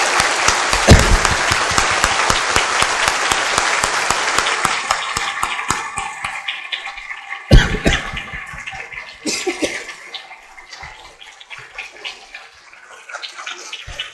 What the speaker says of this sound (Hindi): मैं चाहता हूं 1 मिनट तक तालियां बजे